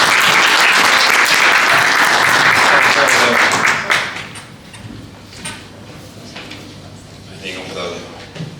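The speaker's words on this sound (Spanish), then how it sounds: "por favor le damos un fuerte aplauso" An audience claps loudly for a guest introduced at a Spanish-language talk, a dense burst of applause lasting about four seconds, then fading into room noise with scattered taps and faint handling sounds.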